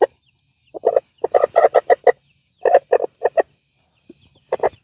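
Several bursts of clucking and crowing from chickens and a rooster, close by, in irregular clusters separated by short quiet gaps.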